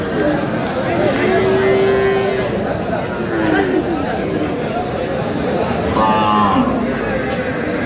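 A cow with her calf at the Aftabganj cattle market moos twice in short, moderately close calls, set against steady crowd chatter and talk.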